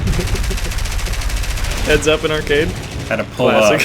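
Rapid aircraft machine gun fire from a biplane dogfight in War Thunder, a dense continuous rattle under the sustained roar of an engine, with someone talking over it.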